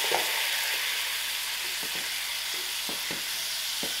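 Potatoes hit a pan of hot masala for a pilchard fish curry, setting off a loud, steady sizzle with a few scraping stirs, and nobody speaks.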